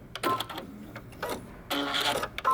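A sewing machine runs in short bursts while back stitching paper bag pants, its motor whirring and the needle clattering close by, with pauses between runs.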